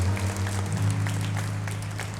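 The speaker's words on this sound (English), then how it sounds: "Y'all give these nice young ladies applause," Audience applause for young ladies at a high school symphonic band spring concert, with clapping over a sustained low hum from the hall that runs evenly for a couple of seconds.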